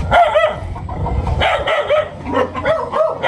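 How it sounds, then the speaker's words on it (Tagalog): Several dogs bark and yip repeatedly, loud and close, in overlapping bursts. "Yan, may aso."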